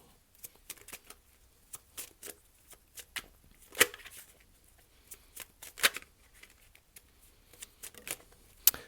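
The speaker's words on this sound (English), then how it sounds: "3 cards, please. I only take uprights and only take jumpers from the deck." A tarot card deck is shuffled close up, with soft riffling and patting bursts coming in irregular clusters, a few sharper snaps standing out, all quiet and without talk.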